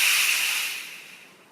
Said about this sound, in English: Now I'm going to go ahead and blow on this rotor and bring it up to speed here a little bit.